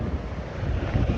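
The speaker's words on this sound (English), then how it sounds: "Just hella windy and cold." Strong, cold wind blasts a microphone outdoors at a scenic viewpoint, a loud continuous low roar with gusty rumble and no speech.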